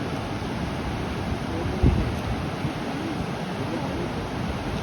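River rushing hard after rain near Amboli ghat, a constant broad roar of water with one brief low thump, steady and moderately loud.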